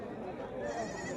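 Goats bleat amid the crowd at a Wednesday night goat market in Paramakudi, a steady bleat blending into nearby chatter and market bustle.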